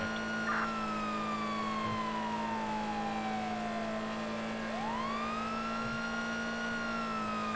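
Police car siren in the GTA 5 video game wails in a long slow falling sweep, then rises again, over a steady low engine hum, fairly faint and with no talking.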